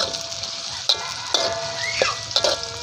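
Anchovies and cassava shoots with onion stir-fried in a pan, a continuous close sizzle with a few sharp metallic scrapes and clinks of the spatula, no voices.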